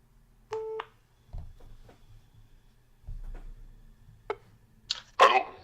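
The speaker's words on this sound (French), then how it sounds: "on appelle tout de suite, je mets le haut-parleur" Over a speakerphone, a number is dialed with a few short electronic tones, followed by faint connection beeps and clicks, near and quiet, with a brief rustle at the end.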